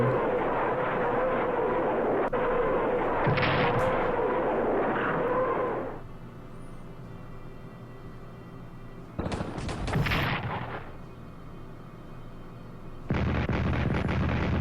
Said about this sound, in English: Defensive artillery to help the Canadians.